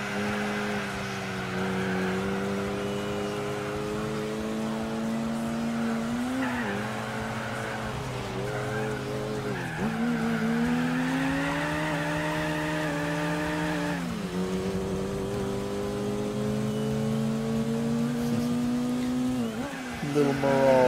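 Mitsubishi Mirage compact race cars in Gran Turismo 4 during a Japanese compact car race, a steady droning engine note rising and dropping through gear shifts with brief tire squeals, continuous and fairly loud with talk over it.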